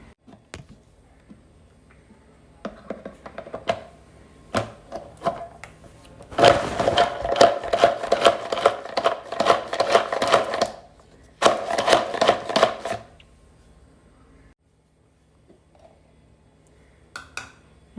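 An onion cut into four pieces is whirred in a small chopper, with two long bursts of fast rattling chopping broken by short clicks and quiet pauses, no speech.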